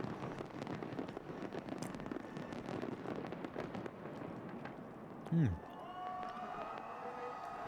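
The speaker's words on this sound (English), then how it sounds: "One last firework, or are they going to give it another big walloper?" Fireworks at an end-of-decade celebration crackle and pop continuously at a distance over a murmuring crowd. A single whistling rocket sweeps downward and then bursts loudly, followed by a lingering tone and further scattered crackling.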